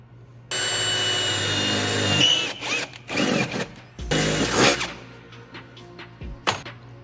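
Power drill boring a hole in a Suzuki Samurai during a GMRS radio install, a steady high whine for a couple of seconds followed by several shorter bursts and clunks, close up.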